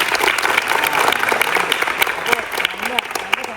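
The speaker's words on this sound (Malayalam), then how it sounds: "ഒന്ന് കൈയടിച്ചാണ്." Schoolchildren at a girls' self-defense class in a school clapping together, a brisk, close, steady burst of many hands lasting a few seconds.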